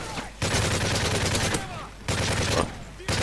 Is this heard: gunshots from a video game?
yes